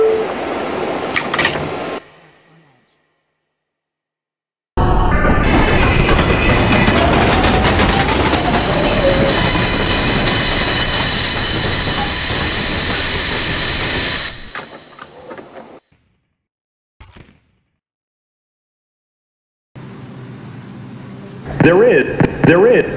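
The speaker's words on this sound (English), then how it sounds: "There is a Manhattan-bound train approaching the station." A Manhattan-bound subway train rumbles loudly into the station for about ten seconds, with rising screeches and clatter, then fades; brief bursts of sound before and after.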